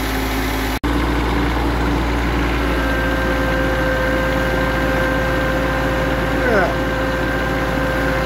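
A Kioti CS2510 tractor's diesel engine idles steadily and loudly nearby after a cold start, a constant low rumble with a faint whine, after a brief dropout near the start.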